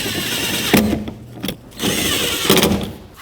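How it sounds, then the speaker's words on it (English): Power driver running screws back into a 2007-2009 Saturn Aura door panel: two bursts of whirring, the first around a second long and the second longer, each separated by short pauses, close and clear with no talking. "Let's put these 2 screws back"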